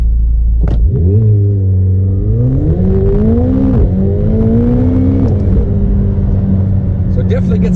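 A car on Toyo R888R performance tires and super lightweight wheels launches hard from a standstill, its engine revving loudly and climbing in pitch as the wheels spin, staying close and dominant for several seconds.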